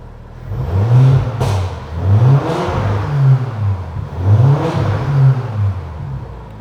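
Audi RS4 B9 with a stage 2 tune, engine and exhaust in quiet mode giving a deep, muffled rumble that rises and falls in repeated rev swells, close and loud with no talking.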